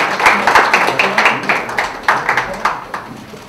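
Attendees at a data policy forum clap as guests gather for a group photo, bursts of close claps in quick rhythmic runs that rise and fade, loud at first then tapering off.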